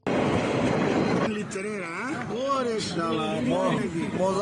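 A train runs on the Chattogram to Cox's Bazar rail line with a loud rolling rumble at the start, then a voice talks over the fainter running noise.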